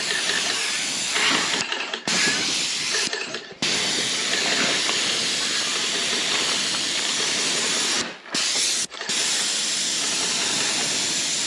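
An Avanti airless paint sprayer sprays paint onto a wooden fence with a steady, loud hiss that cuts off in several short breaks as the trigger is released and pulled again.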